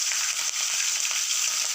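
Green chillies fry in hot oil with mustard seeds and curry leaves in a pan for upma, giving a continuous close sizzle scattered with small crackling pops and no speech.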